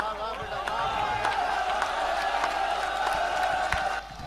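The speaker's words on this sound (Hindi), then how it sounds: "एक बार जोरदार तालियां, जोरदार तालियां" A live audience at a Hindi poetry recital gives sustained applause with scattered cheers and whoops, a steady wash of clapping from a large crowd that fades slightly at the end.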